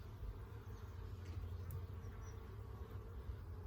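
A steady, low hum of many honeybees buzzing up close on a hive frame, continuous and even, with no voices.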